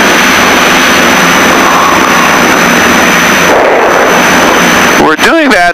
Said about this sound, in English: Slow flight, as we can hear, it is slowing the aircraft down to the point of being right above stall speed.